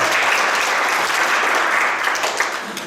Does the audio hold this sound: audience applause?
yes